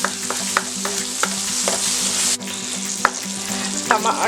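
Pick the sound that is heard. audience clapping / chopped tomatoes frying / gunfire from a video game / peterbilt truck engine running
chopped tomatoes frying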